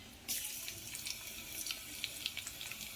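Water pours into a cooking pot as a steady, close splashing stream with scattered drips and gurgles, fairly quiet, with no talking.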